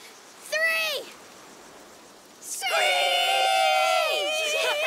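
Voices in A Plague Tale: Requiem let out one short rising-and-falling screech, then after a pause a longer, louder chorus of high screeches imitating birds of prey, layered and sustained to the end.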